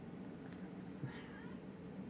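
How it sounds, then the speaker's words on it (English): A pet cat meowing once, a soft short call over a low steady background hum indoors. "that's my cat saying hi to you guys as well"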